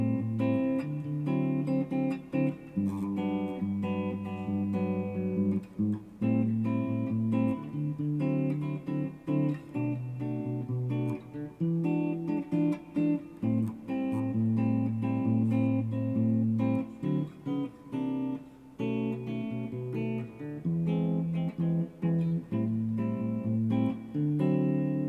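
The chorus of a song is played slowly on guitar: clear, ringing chords and picked notes in an unhurried, steady rhythm, solo and close, with no singing or talk.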